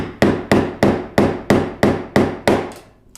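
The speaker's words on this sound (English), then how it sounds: "give a couple whacks here with the hammer" A hammer strikes eight times in a steady rhythm to knock the head off a rivet on a C7 Corvette composite side skirt, each sharp, close knock ringing briefly before the next, with no talking.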